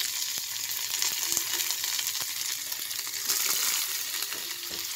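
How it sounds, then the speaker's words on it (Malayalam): Mustard seeds and curry leaves sizzle steadily in hot oil for a tempering, a dense continuous crackle with sharp popping ticks scattered throughout, close and fairly loud, with no voices. "ഓയിലിലേക്ക് കുറച്ച് കടുക് ഇട്ട് കൊടുക്കാം. അതിനോട് ഒപ്പം തന്നെ കറിവേപ്പില."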